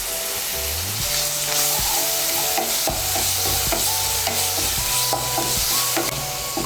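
Ginger, garlic and onion paste frying in oil for a masala soybean dish, a steady close sizzle with repeated stirring scrapes and knocks throughout, no voices.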